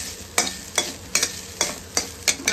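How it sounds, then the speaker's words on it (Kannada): About two tablespoons of ghee with grated coconut frying in a pan, a soft continuous sizzle punctuated by six or seven evenly spaced sharp scraping stirs, close up and with no talking. "ಒಂದು 2 ಟೇಬಲ್ ಸ್ಪೂನ್ ತುಪ್ಪ ಹಾಕೊಂಡು ತೆಂಗಿನಕಾಯಿ ತುರಿನ ಫ್ರೈ ಮಾಡ್ಕೊಳ್ತಾ ಇದ್ದೀವಿ ಸ್ವಲ್ಪ ತುಪ್ಪದಲ್ಲಿ"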